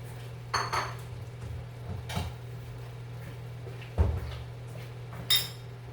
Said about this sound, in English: I'm going to go ahead and put the noodles on a plate